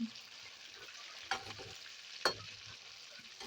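Fish frying in oil in a pan makes a soft, continuous sizzle, broken by two sharp scraping clatters as the pieces are flipped.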